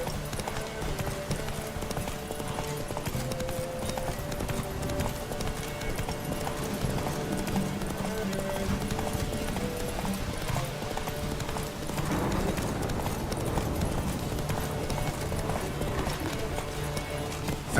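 A horse gallops in The Witcher 3 video game, its hooves drumming a fast continuous clip-clop rhythm close by, with a faint whinny and layered game sound beneath.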